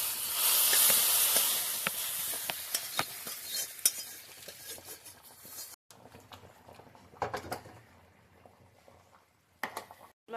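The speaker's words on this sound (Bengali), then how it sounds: "হলদি লাগবে তো তেলের ভিতরে দিয়ে দিচ্ছি" Turmeric hits hot oil for the tempering of dalma, an Odia lentil dish, giving a loud sizzle and hiss that fades into softer crackling frying, broken by stirring and clinks of utensils.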